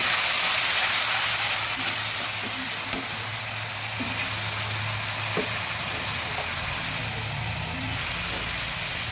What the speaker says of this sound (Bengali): ভালোভাবে ভেজে দিচ্ছি। হালকা একটু জল দিয়ে দিচ্ছি।